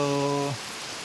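Rain falls at night in a steady, even hiss of drops, with a held tone fading out during the first half second.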